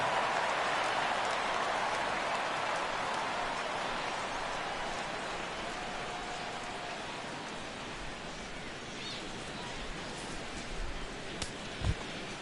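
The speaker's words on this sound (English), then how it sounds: "the rain continues to fall here" Steady rain pours over a ballpark during a Mariners at Cubs game in MLB The Show 16, a continuous dense wash of drops with faint crowd murmur and a brief bump near the end.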